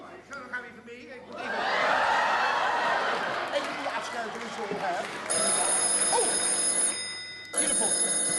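A telephone bell rings loudly in a Dutch comedy sketch, with two bursts separated by a brief gap, heard under voices and audience laughter.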